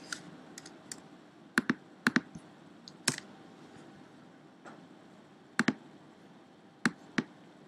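Typing on a computer keyboard, close, scattered clicky keystrokes in short irregular bursts and pairs with gaps between them over a quiet background.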